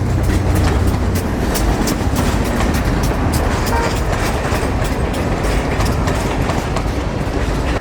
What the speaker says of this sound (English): the train passing.